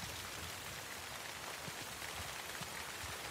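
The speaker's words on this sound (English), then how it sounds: "Oh, the storm is coming." Storm rain in The Last of Us Part II pours steadily, a dense continuous hiss of drops pattering on surfaces with soft irregular splashes, loud and unbroken throughout.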